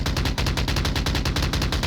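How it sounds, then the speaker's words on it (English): Gunfire from the VR shooter game Onward rattles in loud, rapid automatic bursts, a dense rhythmic volley filling the whole moment without pause. "You got gunfire across the battlefield here as Doctor is suppressing."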